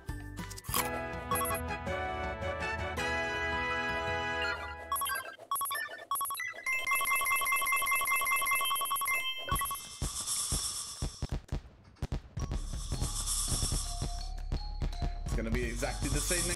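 A phone rings and chimes repeatedly in bursts of electronic tones, loud and close, with alert sounds going off again and again amid some background voice.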